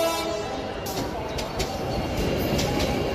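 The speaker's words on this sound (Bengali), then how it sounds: "ঠিক কয়েক সেকেন্ডের মধ্যেই ট্রেন এসে হাজির হলো।" A cartoon train pulls into a station, a steady rumbling rail roar with faint rhythmic clatter and brief higher hissing accents, loud and continuous throughout.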